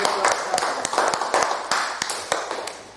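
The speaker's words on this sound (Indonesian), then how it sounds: "Oke, tepuk tangan." A classroom of students claps for the first presentation group, scattered sharp hand claps popping over a low murmur of voices and room chatter, loosely timed and fading slightly toward the end.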